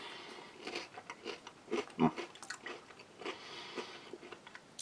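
Crunchy cracker from an Italian 24-hour ration, softened slightly by sauce juices, chewed close to the mic: irregular crisp crunches and bites with wetter squishy chewing between, moderately loud, no talking.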